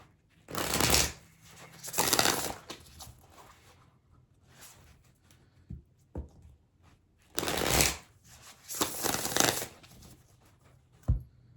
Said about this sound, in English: We're gonna do one more shuffle.